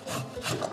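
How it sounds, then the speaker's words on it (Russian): Pumpkin rubbed over a fine kitchen grater gives a short, quiet rasping scrape lasting under a second. "На мелкой терке натру тыкву."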